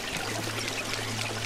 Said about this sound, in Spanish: Andar por el agua, eso siempre funciona.